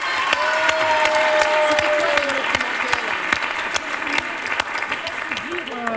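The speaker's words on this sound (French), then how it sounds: "applaudissements!" A studio audience bursts into sustained, dense applause for a tied score in a card game show, loud and steady from start to finish, with faint voices underneath.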